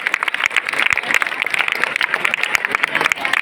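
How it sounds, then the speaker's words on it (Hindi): An audience at a school gathering in Delhi claps loudly for a teacher, a close, choppy burst of many hands striking in quick, uneven succession throughout. "एक बार जोरदार तालियां हो जाए।"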